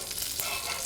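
Blackened salmon sizzles in a pan that has just been switched off, a soft, steady hiss heard up close for a brief moment.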